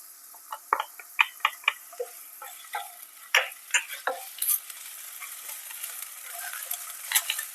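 Ginger-garlic paste with green chillies sautés quietly in a pan, a faint low sizzle broken by a series of soft, irregular taps and scrapes from stirring, close by with no voices.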